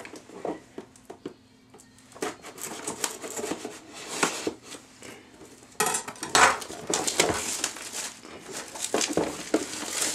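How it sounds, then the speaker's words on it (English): A knife slicing open the cardboard box of a D-Link DIR-655 router, with scraping, tearing and rustling cuts in irregular bursts, close and fairly quiet, no talking. "Now let's take my big old unboxing knife and let's unbox this bad boy."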